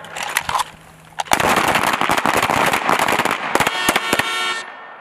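Gunfire at an Army small arms championship on a range: a few isolated shots, then a dense, rapid burst of overlapping cracks from many shooters, thinning to scattered final shots.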